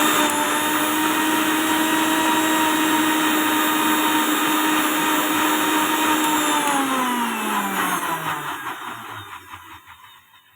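A mixer grinder blending ginger, sugar and water into juice, a steady loud whirring motor that runs continuously, then winds down with a falling pitch near the end.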